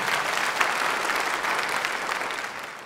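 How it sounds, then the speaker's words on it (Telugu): An audience at a mass meditation gathering clapping together, a dense, sustained roar of applause holding steady and fading slightly at the close. "ఒకసారి వారికి గట్టిగా చప్పట్లతో మనం కృతజ్ఞతలు చెప్దాం."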